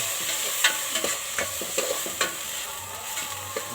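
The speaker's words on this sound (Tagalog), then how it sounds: "Gisa-gisay mo muna yung bigas." Raw rice is sautéed in a pan with garlic and ginger for plain rice porridge, a steady sizzle broken by repeated scraping stirs at a loose rhythm, close up, with no voices.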